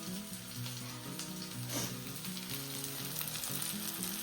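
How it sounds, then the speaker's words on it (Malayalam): An egg fries in a pan, with a soft, continuous close sizzle and faint crackling throughout, fairly quiet and without voices. "മുട്ട കുറച്ചേ വറുക്കുന്നുള്ളൂ"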